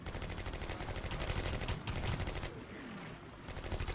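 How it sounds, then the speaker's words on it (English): Rapid gunfire in the WWII strategy game Combat Mission Beyond Overlord, German forces fighting British troops, with dense bursts of shots and machine-gun fire, loud and continuous with a brief gap near the end. "Some nasty shooting there."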